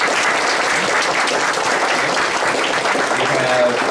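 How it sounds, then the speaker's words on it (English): Loud, close applause from a packed audience at a leadership and mentoring day continues without letup, a thick wall of clapping hands. "Please give them a big round of applause"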